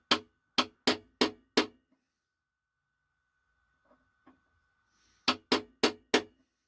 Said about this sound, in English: grab the center punch, find center, give it a whack with what's left of my hammer